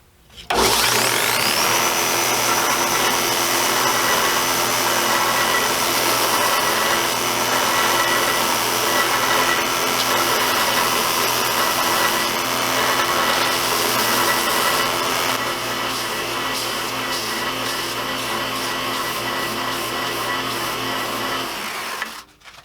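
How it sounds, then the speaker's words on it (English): Wooden dog hole riser blocks for a work table being sanded, a loud, steady abrasive whir that runs unbroken for about twenty seconds with no talk, then stops abruptly. "I'm going to sand all those off"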